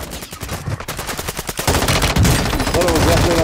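Rapid bursts of automatic gunfire in Call of Duty Modern Warfare II Plunder, loud, close machine-gun rattles in quick succession, rising into denser firing toward the end.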